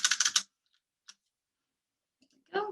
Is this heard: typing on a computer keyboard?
yes